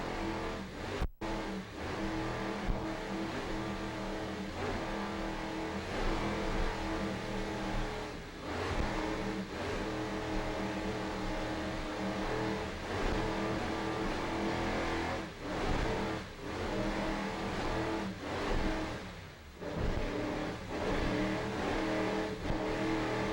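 Onboard a race car of Nick Carter Racing lapping a track, with a continuous loud engine drone that rises and falls through shifts and throttle changes, and no voices.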